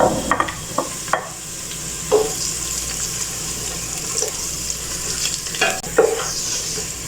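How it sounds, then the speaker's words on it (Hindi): Soft frying sizzle of chopped garlic in a pan with occasional scraping stirs and clatters, close by, no voices. "अब इसे भी हल्का सा फ्राई करेंगे।"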